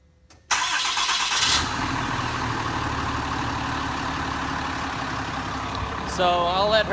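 A big old Cummins diesel truck engine cranks briefly, then catches and settles into a loud, steady rumbling idle close by, with a voice speaking briefly near the end.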